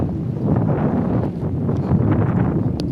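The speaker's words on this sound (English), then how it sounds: "It's a little windy." Gusty outdoor wind buffets the microphone in a low, uneven rumble that swells and dips over a few seconds, close and fairly loud, with no voices.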